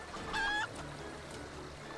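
A tamed rooster, painted green, gives a short honking cluck in Final Fantasy XIV, one brief call near the start over a quiet ambient backdrop, then nothing more from the bird.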